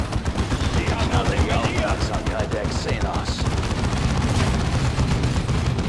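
Rapid bursts of gunfire in Warhammer 40,000: Dawn of War II crackle continuously and loudly, with a dense, chaotic battle din and a voice mixed in underneath.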